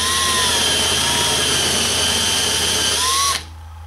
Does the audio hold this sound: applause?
no